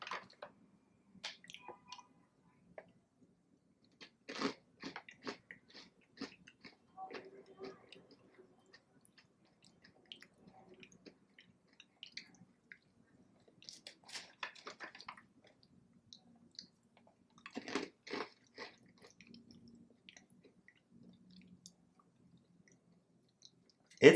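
Baked M&Ms Munchums milk chocolate pieces being chewed up close, soft crunchy and squishy mouth sounds in scattered bursts with quiet pauses, faint and intermittent.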